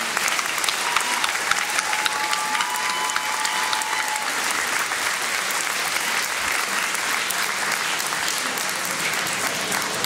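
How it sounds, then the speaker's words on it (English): Outdoor community crowd at a salute-to-heroes event in Magnolia gives sustained applause, steady and dense for the full length with a faint tonal whistle or cheer briefly on top. "Let's just give one last hand of applause to these guys and their leadership"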